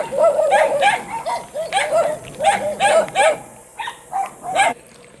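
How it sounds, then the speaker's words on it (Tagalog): Several dogs bark in overlapping, repeated bursts out behind a house, with one occasional higher yip among them. The chorus is fairly close and loud, then thins toward the end, and faint bird sounds sit underneath. "Kadaming aso."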